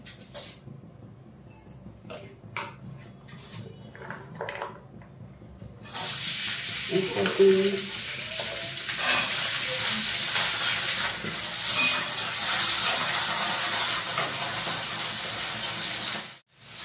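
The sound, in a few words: vegetables frying in white oil in a wok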